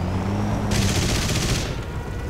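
A rear gunner's machine gun fires a short burst of rapid shots in the War Thunder video game, loud over a steady aircraft engine drone that runs throughout.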